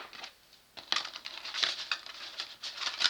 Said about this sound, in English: I just can't shuffle these cards this way.